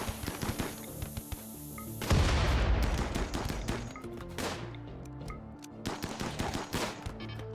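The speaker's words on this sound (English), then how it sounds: "We're shooting in the fog" Video game gunfire in a foggy map of shallow water: dense rapid bursts of shots, then a heavy continuous barrage with booming low rumble, loud and near, followed by more scattered bursts.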